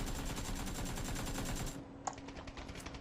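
An AK assault rifle without a compensator fires in PUBG, a steady fast run of automatic shots for under two seconds, then a few faint trailing sounds and a click.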